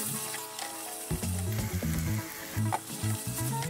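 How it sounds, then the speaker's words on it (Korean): Ramen noodles with seasoning, soy sauce and sugar sizzle and crackle in a hot pan while a utensil stirs and scrapes, with steady frying hiss throughout, close up. "간장과 설탕을 넣어 살짝 끓이다가 재료와 섞으며 볶아주세요"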